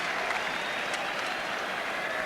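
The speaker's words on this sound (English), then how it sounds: "Good applause, of course, for the home team" A football stadium crowd at Arsenal versus Tottenham applauds the home team in very heavy rain, a steady distant wash of clapping with no clear voices.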